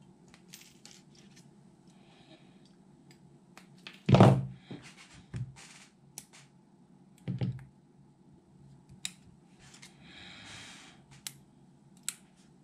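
Battery connector strips being cut during a Bosch e-bike rear carrier PowerPack 500 battery repair, a few sharp snips and clicks, one louder crunching cut among quieter taps and handling noises.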